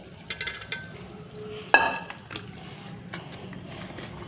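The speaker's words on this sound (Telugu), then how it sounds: "ఇలా వేడివేడిది పట్టుకెళ్ళి మనం ఉసిరికాయల్లో వేసేయడమే" A hot tamarind tempering is poured into a gooseberry pickle and stirred, giving a sharp hiss and splash, scattered utensil clicks and scraping, and a low background sizzle, with no speech.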